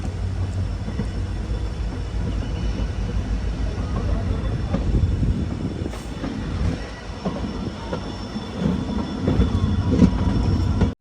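A Madurai–Guruvayur Express running on rails toward New Aryankavu railway station in Kerala rumbles loud and close, with a continuous clatter of wheels, metallic rattles and a brief squeal, and no talk.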